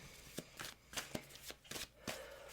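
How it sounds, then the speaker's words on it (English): Tarot cards are riffled and shuffled by hand in a series of about seven crisp, rapid bursts, close and clear, with no talking over them. "let me just get a couple good shuffles in here"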